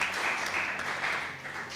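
A school debating audience in Dominica claps in a steady, dense round of applause, fairly even in loudness throughout and without speech over it.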